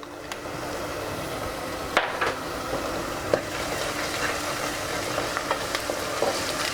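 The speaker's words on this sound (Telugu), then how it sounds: "ఇందులో అల్లం వెల్లుల్లి పేస్టు అన్నీ వేసేసాను" Onions fry with ginger-garlic paste and masala for an Andhra gongura chicken curry, a steady close sizzle broken by spoon scrapes and clacks as the pan is stirred.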